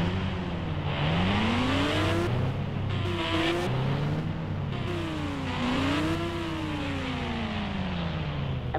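An Apache motorbike engine in a video game revs continuously, its pitch repeatedly climbing and dipping in smooth surges over several seconds. The sound is loud and steady, with no speech.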